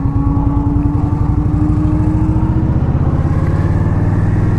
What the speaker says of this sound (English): Sounds really good though. It's not the loudest bike in the world, but it sounds good.